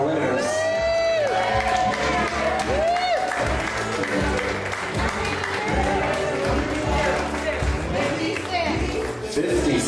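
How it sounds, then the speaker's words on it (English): Wedding guests applaud and cheer in a continuous, loud burst of clapping, with whoops and crowd voices rising through it for the full stretch. "Give them a nice round of applause again, everybody."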